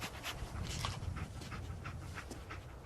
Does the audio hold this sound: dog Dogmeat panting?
yes